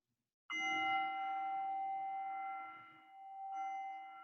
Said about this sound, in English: The bell's about to go off.